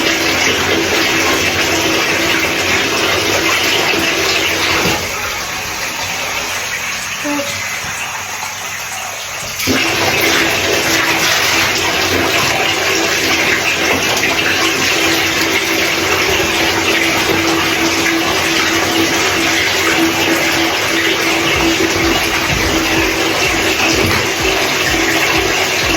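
Water from a tub is poured over hair during washing, a steady loud rushing splash that pauses briefly midway and then continues without letup.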